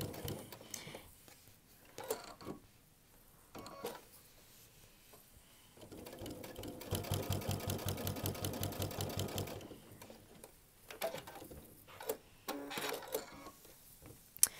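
Sewing machine fitted with a deluxe walking foot stitching a steady burst of several seconds, a rapid rhythmic mechanical chatter with a slight thump, framed by quieter handling clicks and rustles before and after.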